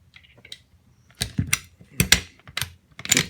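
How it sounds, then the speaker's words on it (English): Metal clicks and clacks as the charging handle is fitted back into a Browning Silver Hunter 12-gauge semi-automatic shotgun during cleaning, a few sharp bursts separated by brief quiet pauses, close up. "We're going to replace our charging handle."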